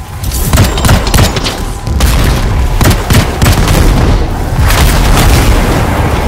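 Dense, continuous barrage of heavy booms and blasts in the video game Anthem, with repeated loud explosive thuds overlapping one another at close range and no pause across the stretch.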